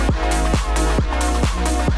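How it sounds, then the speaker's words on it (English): Within an electronic music track, a chopped vocal sample pops out in short pitched bursts on a steady rhythm, about four hits over two seconds, loud over a deep kick and bass. "Sounds like a vocal chop."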